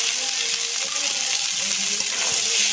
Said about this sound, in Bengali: কাঁচা লঙ্কা আর পেঁয়াজটা এইভাবে আমি ভেজে নেব, পুরোপুরি মুচমুচে করে ভাজবো না।